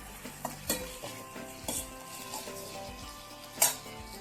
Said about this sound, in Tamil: தக்காளி, வெங்காயம் 2 சேர்ந்து வதங்கும் போது